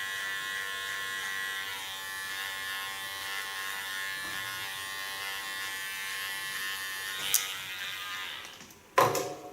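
A small electric hair clipper buzzes steadily while cutting a straight contour line on ultra-short hair, a close, even hum throughout with a couple of brief knocks near the end.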